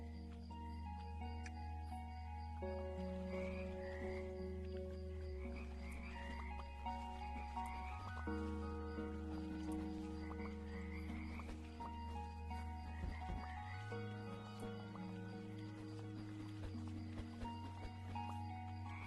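Frogs croak repeatedly in the pond world of the video game Mudborne, a steady chorus over layered musical tones and game ambience, with no talking.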